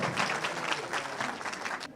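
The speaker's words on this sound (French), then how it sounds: "Applaudissez pour El Hadj Mamad Sylla." A crowd at a political rally claps in a dense, steady burst of many hands for about two seconds, fairly even in loudness before it cuts off sharply at the end.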